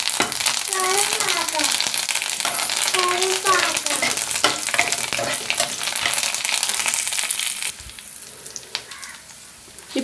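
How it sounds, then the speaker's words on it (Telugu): Cashews and curry leaves fry in hot oil for khara bath, giving a loud close sizzle with crackling spatters and stir scrapes, and a voice talking over the first part before the frying fades quieter near the end. "అలాగే జీడిపప్పు కూడా వేసి వేయించుకుందాం. ఇప్పుడు దీనిలో కరివేపాకు వేసుకుందాం."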